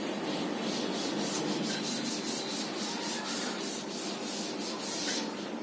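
Steady dry rubbing of a duster wiping writing off a board during a maths lecture, a continuous scraping swish lasting several seconds at close range with no talk over it.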